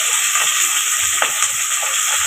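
Onions sizzle in hot oil for mutton boti kulambu, giving a steady bright hiss with faint crackles throughout and no voices.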